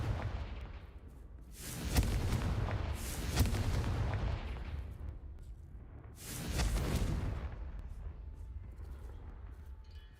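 Confringo blasting spell explosions in the video game Hogwarts Legacy, several loud booming blasts with rumbling tails, spaced a few seconds apart over a continuous low game background.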